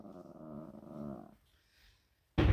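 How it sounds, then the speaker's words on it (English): A neighbour's dog sounds from down a corridor with a low rumbling growl, then a near-silent gap, then one sudden loud bark, all echoing off hard walls, with no one speaking. "That's that lady's dog barking again down the corridor."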